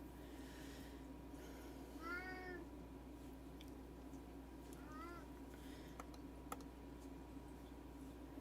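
Indoors in a house, a cat meows twice, once early and once midway, both faint and drawn out, over a steady background hum with a few keyboard clicks.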